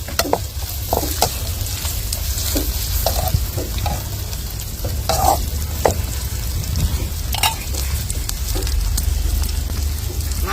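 Snails frying in a pan in a village kitchen with a little chilli powder, a loud steady sizzle close by with repeated scraping stirs and spoon clinks throughout, no talking.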